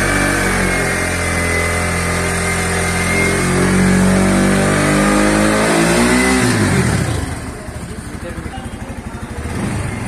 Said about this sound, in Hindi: तो चलिए अब हम इसका रेविंग स्टार्ट करते हैं।